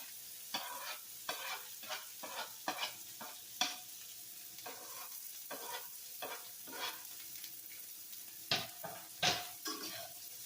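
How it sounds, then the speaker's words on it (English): Mushrooms, collard greens and garlic sauté in a pan with a quiet, steady sizzle, broken by repeated scraping stirs of a utensil against the pan, with no talking. "So you just give them a quick saute."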